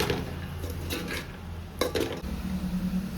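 Spring onions toss and fry in a pan for chicken egg fried rice, with clinking utensil and pan scrapes, stirring sounds and a soft sizzle throughout, moderately loud and close.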